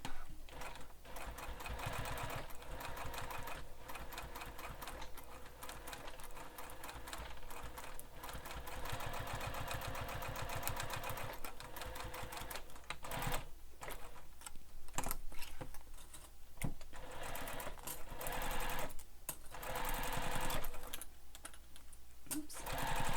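Sewing machine stitching around the curves of a bag, quiet and close, in short bursts of rapid mechanical clatter broken by brief pauses as the fabric is turned.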